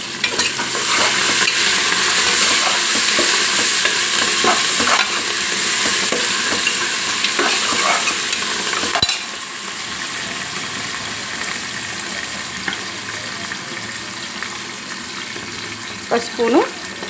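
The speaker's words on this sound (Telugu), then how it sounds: "జింజర్ గార్లిక్ పేస్ట్ వేగింది కదా" Ginger garlic paste frying and sizzling in a pan while being stirred, a loud continuous sizzle with scraping stir sounds that drops in level partway through; no one speaks.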